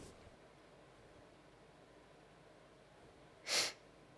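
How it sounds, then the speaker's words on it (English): One short, sharp nasal sniff sounds close by, then fades into a quiet, faintly hissing room. "The sniff fucking says it."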